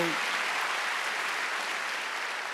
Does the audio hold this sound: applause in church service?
yes